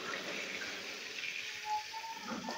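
Koi fish frying in oil in a pan, stirred and turned, giving a steady loud hiss and sizzle throughout with faint scraping near the end.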